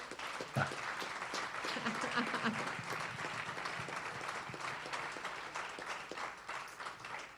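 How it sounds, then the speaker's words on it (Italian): Sustained applause from a webinar audience, dense clapping filling the whole stretch at steady loudness, with a few louder claps standing out near the start. "Facciamo sentire un applauso per piacere."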